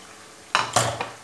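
A spoon scrapes and clanks through fried potato slices and gravy in a pan: a couple of sharp metallic scrapes and a lighter knock in quick succession over a quiet background.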